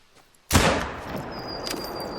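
A single loud 7 mm Magnum rifle shot in the hunting game theHunter: Call of the Wild, a sharp close crack followed by a long fading echo.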